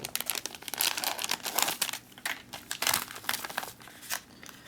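Crinkling and tearing of a 1989 MRE orange beverage base package, the plastic foil rustling and ripping in irregular close, crisp bursts with no talking.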